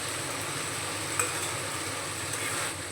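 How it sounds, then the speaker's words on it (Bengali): Spice paste sautéing in a pan with green peas, a steady low sizzle and frying crackle running throughout with a faint clink of a utensil partway through, no voices. "এবার আমি ভালোভাবে মশলাটাকে কষিয়ে নেব"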